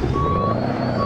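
In American Truck Simulator, a tow truck sounds steady electronic reversing beeps, a thin tone under a low engine drone that holds loud and constant.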